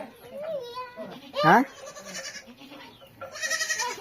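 A goat bleats up close in a few wavering cries, with a voice and other chatter mixed in around it.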